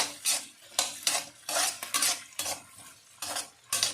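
Peeled garlic cloves stirred in a pot for an eggplant curry, with repeated loud scraping strokes of a spoon against metal, several rhythmic bursts over faint sizzling.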